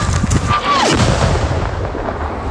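Gunfire during Ukrainian assault brigade combat near Bakhmut, a dense loud burst of cracks and booms with a descending whistle and rumbling echoes, close and continuous with no clear speech.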